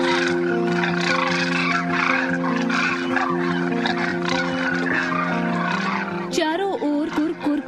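Demoiselle cranes call at a pond in a dense, continuous chorus of rattling, trumpeting cries from many birds at once, with a few nearer, sharper calls standing out near the end.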